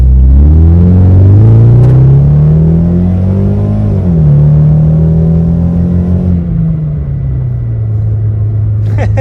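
A Mitsubishi Eclipse, back on the road after sitting a long time, accelerates hard up close. Its loud engine drone climbs in pitch, dips at a gear shift, climbs again, then eases off.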